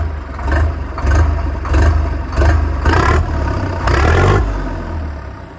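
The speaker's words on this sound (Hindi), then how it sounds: "दोस्तों बहुत तगड़ी आवाज है जी ट्रैक्टर की।" Preet 6049 Super tractor with a 4-cylinder, 60 HP diesel engine runs steadily close by, its low rumble swelling in several rhythmic rev surges with clattering mechanical noise and no talk.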